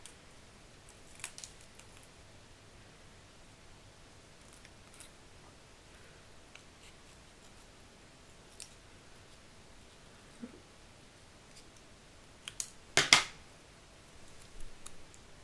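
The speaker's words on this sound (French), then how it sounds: "Je vais venir couper pratiquement autour du tampon." Scissors cut a paper card around a stamp for a fairy-themed handmade card. The room stays mostly quiet, with a few faint scattered snips and a short burst of close, crisp cutting near the end.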